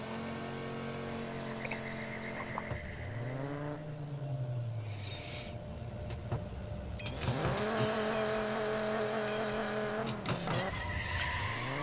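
Racing car engine in the NFS No Limits mobile game revving hard and bouncing off the limiter, pitch sweeping down and up twice, loud and continuous with tire squeal and game effects over the top.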